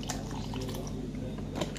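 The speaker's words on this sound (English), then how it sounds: "Yes, I'm gonna pour this almond milk in it right here." Almond milk pours steadily into a mango smoothie, a close, continuous liquid splash and trickle with no voices.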